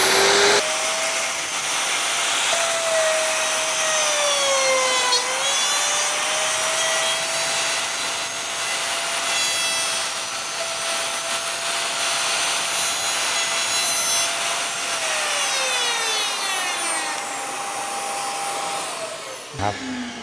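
A wood trimmer router cuts male and female tenon joints guided by a jig. It gives a loud, continuous high-pitched whine for about twenty seconds, with its pitch dipping and rising as it bites into the wood, and stops abruptly at the end.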